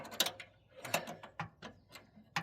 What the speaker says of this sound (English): Put a little tension on this pin so that we can get this nut tight.